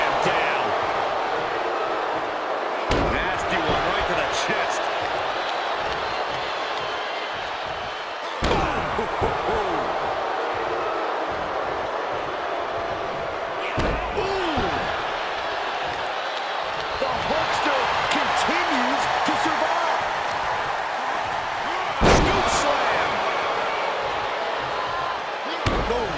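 Heavy body slams in the WWE 2K22 wrestling game, with Yokozuna crushing an opponent: several loud, sharp impacts land every few seconds over steady crowd noise and commentary.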